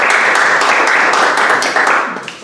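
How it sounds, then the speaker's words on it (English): A live audience gives a sustained round of applause, a dense wash of many hands clapping loudly and continuously before starting to thin out at the end. "give yourself a wonderful round of applause"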